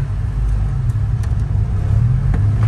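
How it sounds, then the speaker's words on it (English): A Honda Integra with a B18C1 engine idles steadily, a low continuous rumble holding at an even level throughout with no revving or talk. "Start it up. Yeah, buddy. The Integra's running."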